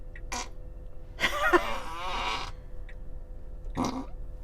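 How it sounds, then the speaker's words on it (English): A synthetic fart sound effect from a car's infotainment system plays in short bursts, a long buzzy blurt in the middle framed by two brief squeaks, over a faint steady hum. "You can also make farting sounds."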